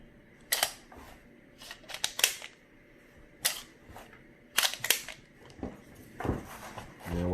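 SAR K12 Sport pistol firing several quick shots, each a sharp crack with the metallic clatter of the ejected casing, spaced irregularly over a steady background hum, with a louder clack at the end.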